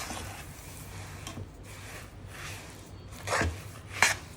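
A spoon stirs a sesame laddu mixture with roasted sesame seeds and crushed peanuts in a pan off the heat, producing soft, gritty scraping strokes, close and fairly quiet, with a couple of sharper knocks near the end.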